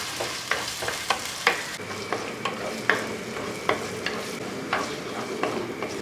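Ginger, green chillies and onion sizzle in oil for a fish curry while a spoon stirs them, a steady frying hiss broken by regular scraping clinks against the pan, close and without talk.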